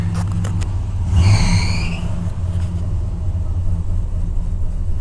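A 1990 Cadillac engine turns over on a cold hard start, a rough low rumble with a brief whining crank near the start, then settling into an uneven idle close by.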